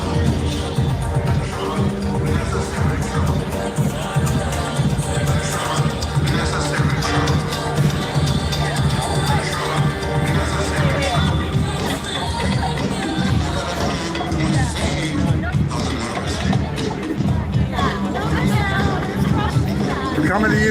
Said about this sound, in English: This is a great crowd they got here.